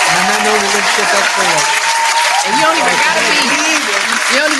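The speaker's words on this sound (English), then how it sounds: "Let's give that clap for that." Clapping from a small podcast audience sounds steadily throughout, loud and dense, with someone speaking over it.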